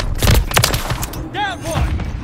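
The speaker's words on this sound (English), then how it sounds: "Taking fire." Gunfire in Call of Duty Modern Warfare 3 multiplayer, a quick volley of loud booming shots and thuds, with in-game voice chatter and a whooshing effect mixed in.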